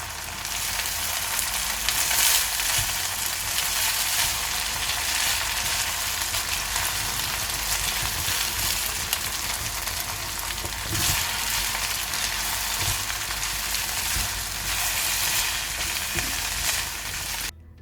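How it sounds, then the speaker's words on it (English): Pineapple fried rice stir-fried in a pan, a loud steady crackling sizzle throughout with occasional stirring scrapes, close and continuous. "Now we'll mix everything nicely until well combined."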